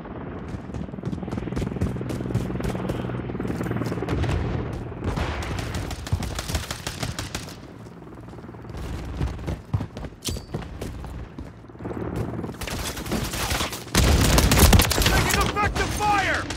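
Heavy gunfire crackles through a Call of Duty match, dense automatic bursts and single shots stacking up, with a louder explosive stretch near the end and faint voices among the shooting.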